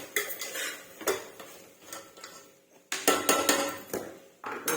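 A spoon scrapes and clatters against a metal pot while chopped bottle gourd pieces are mixed with chili powder for sambar, giving irregular clinks and scraping bursts that come close and loud and pause briefly in between.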